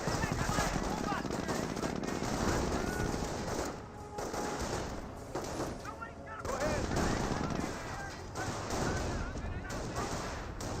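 Rifle and machine gun fire crackles continuously in the World War II strategy game Company of Heroes, mixed with the wider battle din and mostly masked by a voice talking throughout.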